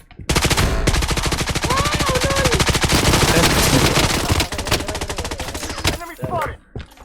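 Sustained rapid automatic gunfire from the mobile shooter Blood Strike rattles in a fast, even stream of close, loud shots for several seconds before breaking into a few scattered bursts, with faint game sounds underneath.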